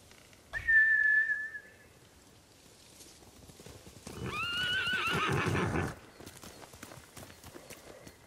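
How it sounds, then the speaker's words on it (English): A horse whinnies sharply in the video game Ghost of Tsushima, then after a pause a second, longer whinny rises over a noisy background of clattering and rustle. "Bastards scared off the horses."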